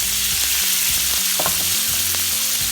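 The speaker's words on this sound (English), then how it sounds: "Give that a nice little stir." Salted capers and olives stirred in a sizzling pan for spaghetti puttanesca, a steady frying hiss with repeated spoon scrapes against the pan and a low hum underneath.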